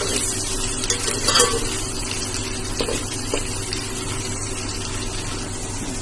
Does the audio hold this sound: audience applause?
no